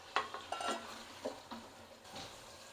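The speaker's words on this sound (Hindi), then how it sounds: "अब आलूओं की भी भुनाई करेंगे हम मसाले में" One kilo of thickly cut potatoes is sautéed in masala for an egg and potato curry, with a spatula tapping and scraping against the pot in a few soft strokes over a faint sizzle, quiet and close.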